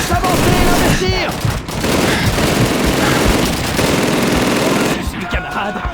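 Dense gunfire in the World War II shooter Call of Duty 2: sustained machine-gun bursts and rifle shots with booming blasts, loud and continuous, with shouted voices mixed in.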